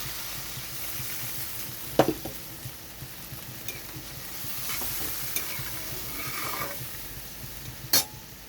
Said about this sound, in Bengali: এখানে ঝোলটা খুব ভালোভাবে ফুটে গেছে